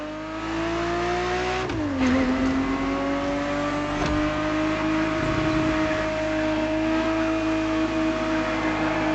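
Ferrari 365 GTB4 racing in The Crew Motorfest, a loud steady engine drone with a brief dip and climb in revs near the start, then a sustained high cruise.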